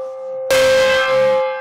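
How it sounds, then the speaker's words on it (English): A gong struck once as a comedic cut-off on a talk radio show, a loud ringing hit that blooms and then sustains with a steady hum, with no talk over it. "if someone gets too extreme, whether on from a call-in or something, we just gong them and they're out"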